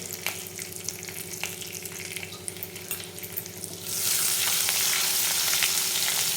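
Black and red masala frying in oil for a Kolhapuri mutton rassa, a steady close sizzle with spoon scrapes, a low hum running underneath, growing louder and brighter partway through as more goes into the pan.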